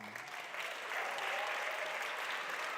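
A conference audience at re:publica 2018 breaks into sustained applause on stage, a dense, even wash of clapping that swells slightly after the first second and holds steady without voices.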